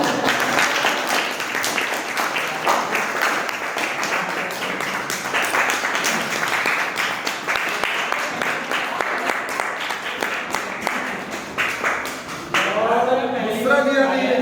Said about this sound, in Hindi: हम लोग कैसे तालियां बजाते हो।